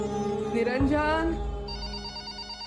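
A telephone rings with a repeating electronic bell tone in a domestic setting, a voice speaking briefly over the start before the ringing carries on alone at moderate loudness.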